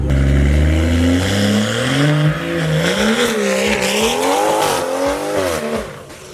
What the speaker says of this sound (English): That is probably one of the loudest BMWs on the internet.